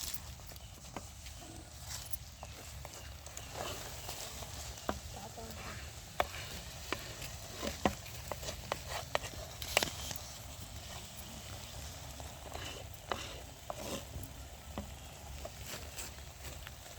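A thick gravy bubbles in a clay pot, with irregular soft pops and crackles over a low steady simmer.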